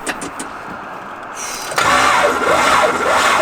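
A built Corvette Z06 engine cranks briefly, then catches and fires up into a loud, steady running roar close by, after a few faint clicks and a short quiet pause at the start.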